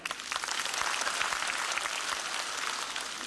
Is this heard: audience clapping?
yes